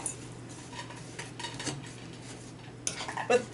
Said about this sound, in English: Now we're just going to mix this all together with